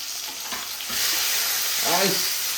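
A steady, loud sizzle of tomatoes and onions frying together in a pan for a curry, with a brief scraping squeal near the end.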